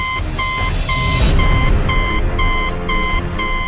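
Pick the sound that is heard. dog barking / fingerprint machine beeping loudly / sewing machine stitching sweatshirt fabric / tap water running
fingerprint machine beeping loudly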